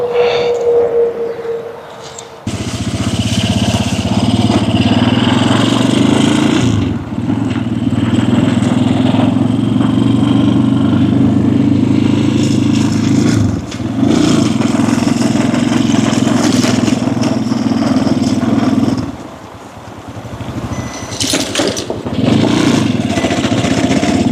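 A motorcycle engine idles steadily close by for most of the stretch, a low throbbing rumble with brief dips and small revs, parked between two buildings at an abandoned motel.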